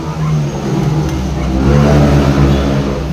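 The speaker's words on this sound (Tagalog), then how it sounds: "Maingay yung sasakyan." A noisy car engine revs loudly and steadily for about three seconds, a close, continuous mid-pitched drone that swells slightly toward the middle, with no voices over it.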